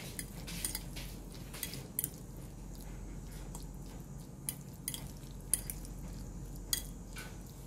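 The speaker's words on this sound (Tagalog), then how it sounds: "Mix natin ulit." Guacamole is mixed in a bowl with a utensil, giving soft squishy, wet mashing sounds and occasional light clinks against the bowl, quiet and close with no voices.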